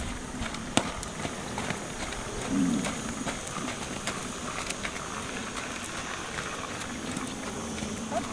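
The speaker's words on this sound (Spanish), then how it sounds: "Sí, mucho trote por un caballo." Horse hooves clip-clop at a steady trot over a low, continuous outdoor background, moderately distant with no talking.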